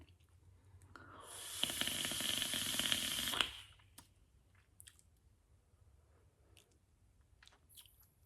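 A vape device drawing Blueberry Jam e-liquid by MVL gives one long, steady airy inhale with a soft crackle, close and fairly loud, followed by a quiet exhale and faint small clicks.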